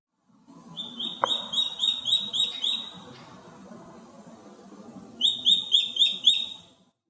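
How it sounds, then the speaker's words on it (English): Goshawk call given as two bouts of rapid, repeated high-pitched chattering notes with a short break between them, set against a soft outdoor background. "Goshawk."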